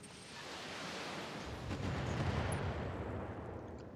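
Artillery fire in the mech combat game BattleTech, a dense continuous rumble of distant bombardment that swells in the middle and then eases slightly, with no voices over it.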